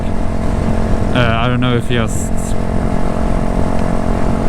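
Yamaha YZF-R125 2017 sport motorcycle engine while riding, a steady droning hum mixed with wind rush throughout, with someone talking close over it partway through.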